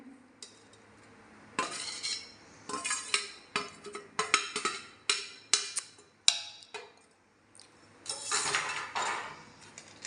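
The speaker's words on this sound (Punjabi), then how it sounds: "ਹੁਣ ਇਹਨੂੰ ਆਪਾਂ ਜਾਰ ਦੇ ਵਿੱਚ ਪਾ ਲੈਨੇ ਆ" A cooled spice mix is put into a jar: a run of close clinks and scrapes of a spoon against glass and metal come in irregular bursts with short pauses between them, and nobody speaks.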